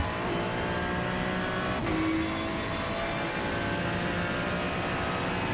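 A Ferrari 296 GT3 race car in the iRacing sim at Monza drones loudly and steadily, its engine note holding and rising under acceleration without a break.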